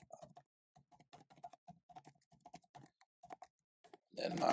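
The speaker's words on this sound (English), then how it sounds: "So I'm going to type in my email" Typing an email address on a computer keyboard, a string of light, irregular key clicks with short pauses between bursts, fairly close and quiet, ending in a louder burst of broadband noise.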